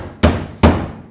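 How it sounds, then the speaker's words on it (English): Two loud, ringing hammer blows knock a part into a Ford Fairlane drag car in a garage, evenly spaced less than half a second apart, close by with no talking. "Just bang that in with a hammer."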